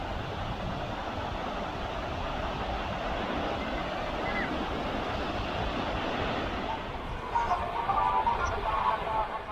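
Steady roar of breaking surf at Devbag beach, continuous and fairly loud, with faint distant voices near the end.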